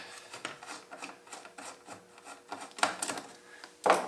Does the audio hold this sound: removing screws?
yes